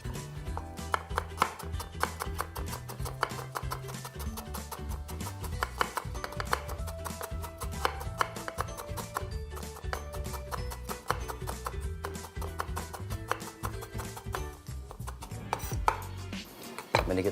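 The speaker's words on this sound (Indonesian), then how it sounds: "Dan untuk gula merahnya kita sisir aja sampai halus." A knife finely shaving a block of palm sugar: rapid, repeated scraping and light tapping strokes in an uneven, continuous rhythm, close and fairly quiet, with no talking.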